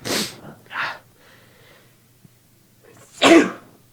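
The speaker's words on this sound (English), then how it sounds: "The sunlight's making me sneeze." A few sharp, explosive bursts of breath, like sneezes, come close together, followed by a brief quiet pause and one final loud sneeze.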